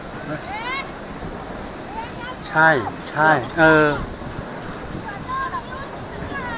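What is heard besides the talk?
wind blowing outside, whooshing near a pillar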